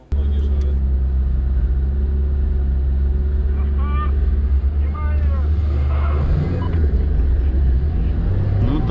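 LADA Niva Travel engine in low-range gear: a loud, steady engine drone and rumble inside the cabin, with voices talking over it.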